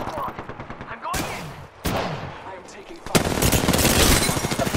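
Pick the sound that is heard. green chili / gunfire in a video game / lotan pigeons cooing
gunfire in a video game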